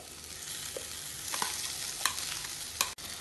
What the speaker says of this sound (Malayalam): എല്ലാം കൂടി ഇളക്കി മിക്സ് ചെയ്യാം.